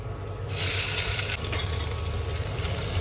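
Onions hit hot oil with a sudden burst of loud sizzling, which settles into a steady crackling fry that carries on to the end.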